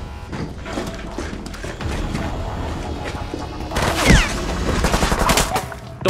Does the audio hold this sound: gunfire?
yes